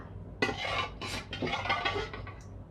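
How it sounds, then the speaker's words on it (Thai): A spoon scrapes and clinks against molds while young coconut sorbet is scooped into ice cream molds, giving a few close, distinct clatters and taps over a quiet background. "เราก็จะตักเนื้อใส่ไปทุกอันเลยนะคะ"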